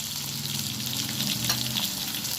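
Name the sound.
potatoes frying and being stirred in pan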